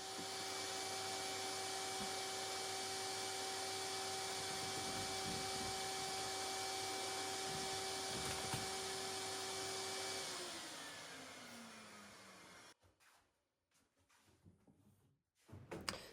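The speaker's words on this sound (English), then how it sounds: "just a bit of a tidy up with the vacuum cleaner" A vacuum cleaner runs with a steady whine and hum for about ten seconds. The motor then winds down, leaving a few faint bumps.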